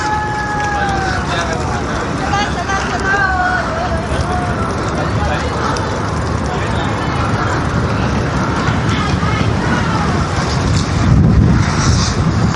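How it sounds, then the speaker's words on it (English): Strong wind roars and buffets the microphone during a ride along a road near Hoi An, Vietnam, a steady loud rush with talk underneath. "There's a fair bit of a wind blowing here."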